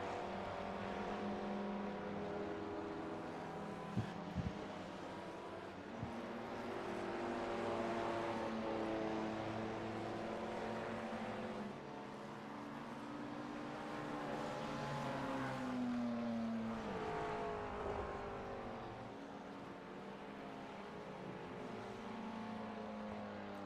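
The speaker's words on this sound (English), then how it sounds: "Drivers continuing their cool down laps." GT3 race cars cruise through cool-down laps at Suzuka circuit, engines droning steadily with shifting pitch as cars pass, a continuous mid-level motor hum with no voices.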